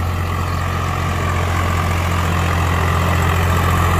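A Swaraj 744XT tractor engine runs steadily in fourth gear at a crowded village fair, a continuous loud low diesel drone with no pauses.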